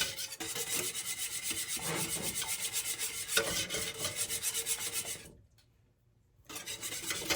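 Creamy mac and cheese sauce being whisked in a pot, a fast rhythmic scraping swish close by that pauses briefly near the end before resuming.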